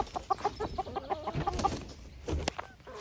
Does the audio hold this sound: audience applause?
no